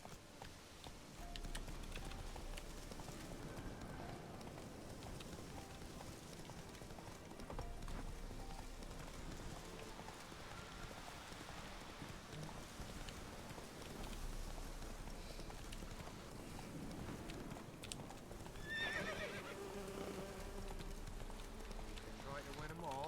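The horse Roach galloping in The Witcher 3, rhythmic hoofbeats drumming steadily throughout, with a voice talking over them at times.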